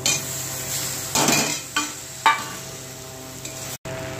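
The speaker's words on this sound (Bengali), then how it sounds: "এই যে পেঁয়াজ কলি এটা ভাজা ভাজা হয়ে গেছে" Onion stalks sizzle in a hot pan while a utensil stirs and scrapes, making a few sharp clinks against the metal.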